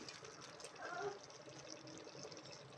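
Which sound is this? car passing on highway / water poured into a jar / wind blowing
water poured into a jar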